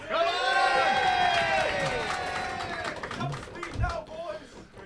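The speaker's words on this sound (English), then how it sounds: "If you thought that Team Spinner won, give me a cheer." An audience cheers for Team Spinner at a Bugglebots robot combat event, a moderate wave of shouting voices with some clapping that thins out into scattered calls and a few thumps.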